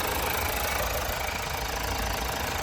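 A 2014 Mazda CX-5 2.2 diesel with automatic transmission and a clean, dry engine idles steadily up close, giving a continuous loud rumble with a faint knocking texture and no voices.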